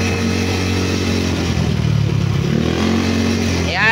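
Repaired Yamaha Mio scooter engine with 218cc build idles close by, a steady low putter with slight revving, and a brief squeal at the end.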